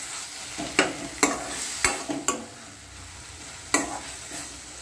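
Sliced capsicum sautéing in hot oil, with a low steady sizzle broken by five or six sharp scrapes and clacks of a stirring spoon spread across the clip, close and fairly quiet, with no voices.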